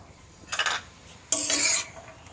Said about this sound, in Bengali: লবণটা দিয়ে এবার নেড়ে দিচ্ছি।